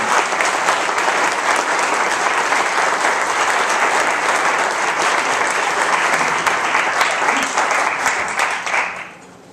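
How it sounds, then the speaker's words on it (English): Loud, dense applause from the audience after a political debate, sustained and even for around nine seconds before tapering off abruptly at the end. "One more round of applause for them for being willing to represent."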